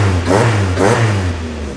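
A Toyota AE86 engine revving in a JDM car, loud and close, with two quick blips rising and falling before settling back to a steady idle hum.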